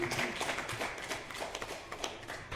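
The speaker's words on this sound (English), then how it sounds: "Another round of applause." Audience at a panel discussion on sustainable gastronomy gives a short burst of clapping, a few hands close by, brief and moderately loud, with faint voices underneath.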